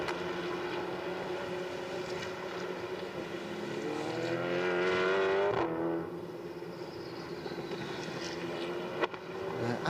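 An endurance prototype race car at Paul Ricard passes with a rising, revving engine note that swells to a peak and then drops away as it heads into the pits, with a commentator's voice faint beneath.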